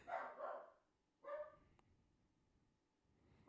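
A dog barks in short bursts, a few separate barks spaced over a few seconds, fairly faint and heard in an otherwise quiet room.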